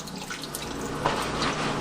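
Water running from a sink shower-head sprayer over hemp leaves being rinsed, a steady close splashing hiss with a slight surge partway through.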